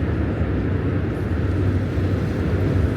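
A helicopter flies over Dumbo in New York, a continuous broadband rotor and engine rumble, loud and steady without talk.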